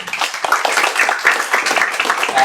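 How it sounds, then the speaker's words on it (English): Round of applause from a seminar audience for three speakers at an ASEAN policy discussion, a continuous crackle of clapping hands, fairly loud and close, with no talk over it. "please join me in thanking our three speakers, Pak Ade, Pak Aleksius, and Pak Rezasyah, with a round of applause"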